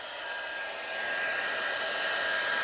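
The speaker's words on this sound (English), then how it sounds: "So always warm your heat gun up." A heat gun blows steadily as it warms up for heat embossing, a continuous close whooshing hiss that builds slightly in strength and runs alone without any talk.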